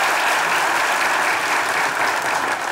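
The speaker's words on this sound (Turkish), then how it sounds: "kardeşimi Atakan'a da çok büyük bir alkış gerçekten" A studio audience at a Turkish comedy sketch show breaks into dense, steady applause, a loud, continuous wash of many hands clapping close by with no voices over it.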